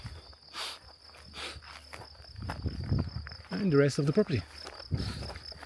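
Steady high-pitched cricket chirping runs in the background beneath someone talking and some footsteps outdoors.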